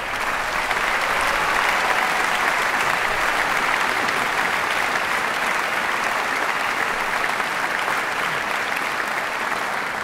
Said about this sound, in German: Begrüßen Sie mit einem Applaus.